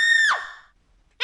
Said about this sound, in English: the pals heard blood-curdling screams that made even the daredevil frog gasp